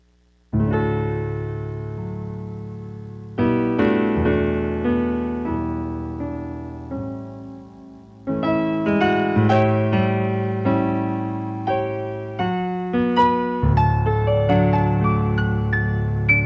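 A public-domain Christian hymn melody played alone on a sustained keyboard-like instrument, with chords and melody notes entering in distinct phrases and ringing out over about sixteen seconds.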